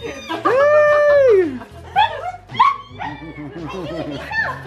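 Dogs on a friendly play date yip, whine and bark in short bursts close by, tangled with excited greetings and chatter from people in the room.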